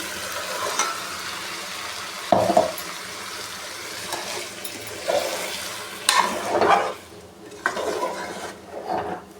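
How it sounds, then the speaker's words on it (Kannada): Ground masala paste goes into a Mandya-style sprouted-bean sambar in a pan, with wet plops, scraping stirs and bubbling sizzle in irregular bursts, fairly loud and without speech. "ಈಗ ರುಬ್ಬಿರೋಂಥ ಮಸಾಲೆನ ಹಾಕ್ಕೋತಾ ಇದ್ದೀನಿ"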